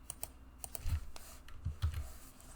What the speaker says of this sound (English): So let me type this resource group name